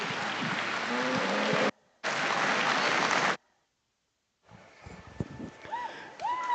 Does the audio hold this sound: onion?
no